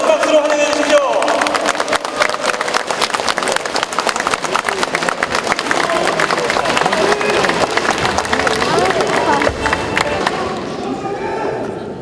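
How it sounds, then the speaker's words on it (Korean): Sustained applause and cheering from a crowd of delegates at a Korean party delegates' convention in Incheon, dense and loud throughout, with crowd noise and voices mixed in, tapering slightly near the end. "여러분 큰 박수로 환영해 주십시오."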